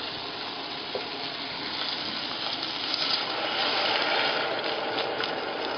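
Water pours into a pot holding a three pepper soup, making a steady, hissing rush that grows slightly louder midway and carries on without talk.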